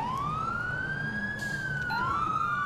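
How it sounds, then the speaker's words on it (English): Police car dual siren in the LCPDFR 1.0d police game: a loud wailing tone sweeps up and slowly down, and a second siren rises in near the end, all over a steady low engine and road rumble. "Fire dual siren, just because we can."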